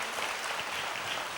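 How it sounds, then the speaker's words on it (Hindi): Congregation at a Christian healing service clapping loudly together, a dense, steady wash of applause that fills the whole short stretch with no break. "जोर से तालियां बजाकर प्रभु यीशु को धन्यवाद दीजिए।"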